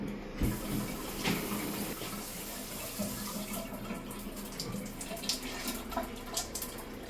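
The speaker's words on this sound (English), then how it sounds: "let's turn our water back on, put it back together, and test it out" Water runs through a newly replaced Moen Posi-Temp shower valve, a continuous close hiss and spatter of flow with occasional splashes and no voices.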